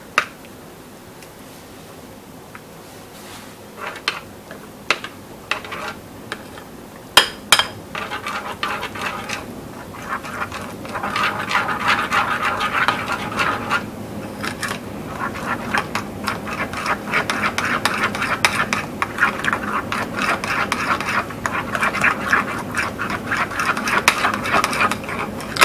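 Honey mustard dressing being whisked in a bowl, with a few sharp clinks of utensils against the dish first, then a steady fast scraping and tapping rhythm that grows louder and continues close up, no talking.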